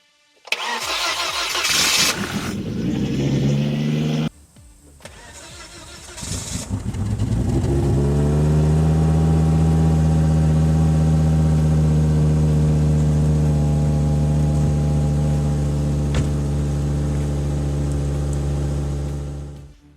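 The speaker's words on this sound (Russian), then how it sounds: "мотор похломотал немножечко" A Volvo S60 engine cranks, fires up and roars briefly, then settles into a steady, loud rumbling idle close by, running continuously until the end.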